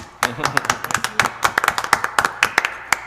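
Scattered applause at a city council meeting, a small group clapping in quick uneven claps that are close and distinct rather than a dense roar, with people talking faintly underneath.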